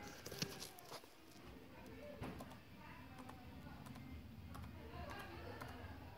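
Quiet, scattered key clicks from typing on a Mac computer keyboard, irregular and faint against a soft background hiss.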